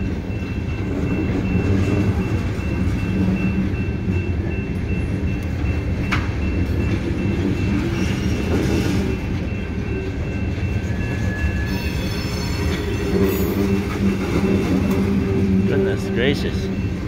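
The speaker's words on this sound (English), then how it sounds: "It's a long train." A long freight train rolls past close by in Newport, Vermont, with a steady heavy rumble, clacking wheels and occasional squeals, while people talk over the noise.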